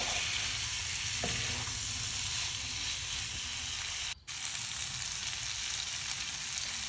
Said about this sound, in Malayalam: മസാലയും പോർക്കും എല്ലാം നല്ലോണം മിക്സ് ചെയ്തെടുക്കുക.